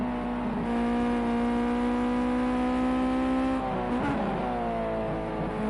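A Ginetta GT5 race car in Project CARS 2 at the Oschersleben circuit screams at high revs, its engine note climbing steadily then dropping sharply on a gear change, loud and close throughout.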